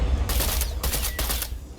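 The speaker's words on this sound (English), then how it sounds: "Let's try out that new rifle." Rapid bursts of rifle fire in a video game, several sharp loud shots in quick succession that come in short groups separated by brief pauses, with no talking.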